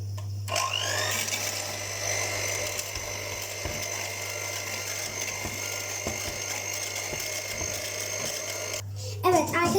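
A blender making ayran whirs continuously at high speed for several seconds, a steady motorized drone that cuts off abruptly at the end.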